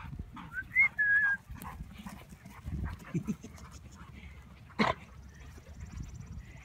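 Several dogs pant and snuffle on a village green during a group outing, close and lively, with faint whines and outdoor background noise while people talk and call out nearby.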